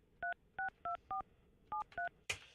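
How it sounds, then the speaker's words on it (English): A telephone number is dialed: six clean, evenly spaced DTMF keypad tones beep in two quick groups, followed by a brief click as the line connects, with no talking. "Let me get Allison on the phone"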